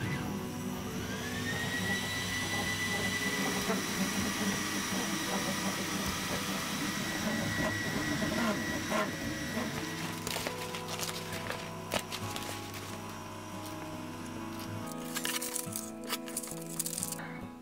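An AlgoLaser Delta 22W laser engraver runs while marking a design on vinyl, giving a steady mechanical whine and hum with shifting tones, later joined by clicks and rattles.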